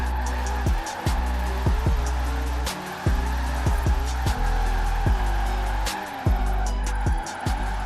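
A Volvo 850R drifts in Forza Horizon 4 with its engine droning and revving in repeated swells, rising and falling through gear changes, while tire noise runs close under the engine.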